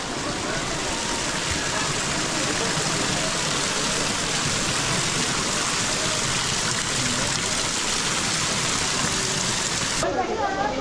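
Water pours steadily from the 108 sacred spouts at Muktinath, a dense, constant rushing splash close by that fills the whole stretch.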